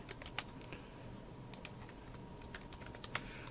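Rapid, uneven clicks of keys on a computer keyboard, with quick taps in irregular bursts close to the mic over a faint background hum.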